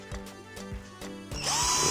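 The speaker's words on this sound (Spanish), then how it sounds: "Cogemos, en este caso lo voy a hacer con el taladro." Power drill loosening and tightening screws on the underside of a Wltoys 12428 RC car, several short whirring bursts in a row, then a rising whine that holds steady at the end, close and fairly loud.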